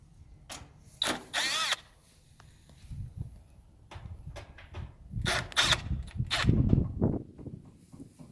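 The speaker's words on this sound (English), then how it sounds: "This drill I use right here, it's actually a really nice drill." Short bursts of a brushless two-speed cordless drill whirring up close while servicing an air conditioner, separated by pauses, with some handling clatter and low rumbling between the runs.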